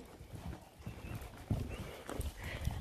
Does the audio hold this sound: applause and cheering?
no